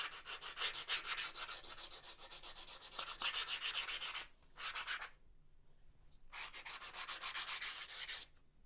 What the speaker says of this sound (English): You just want to sand enough until all these edges are smooth.